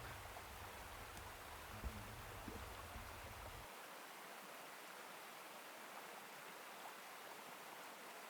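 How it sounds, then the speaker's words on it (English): Steady broadband rush of a creek and waterfall flowing through a backcountry campsite in Mount Rainier National Park, continuous and even throughout, with a low rumble in the first few seconds and no voices. "we enjoyed the sound of the creek and the waterfall that were coming through the camp"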